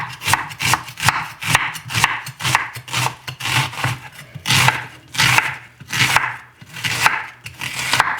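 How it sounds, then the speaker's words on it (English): A knife chops an onion on a board in a fast, regular series of close, crisp thuds, with a few brief pauses and no talking. "I'm gonna chop the onion."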